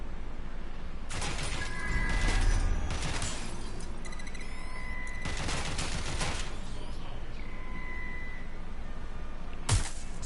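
Gunfire in Watch Dogs: Legion, several sharp bursts of rapid shots separated by quieter gaps and ending in one final loud crack, close and punchy, with no speech.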